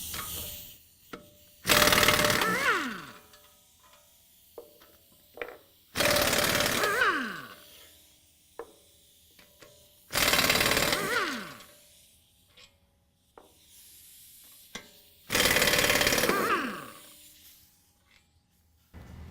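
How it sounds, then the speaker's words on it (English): Power tool, likely an impact wrench, removing the four 18mm bolts that hold the hub to the steering knuckle on a 2015-17 Ford F-150 4WD during a lift kit install. Four loud, separate bursts of about a second each, spaced by quiet gaps with faint clinks. "now I'm going to remove the 4 18mm bolts that are holding the hub to the knuckle"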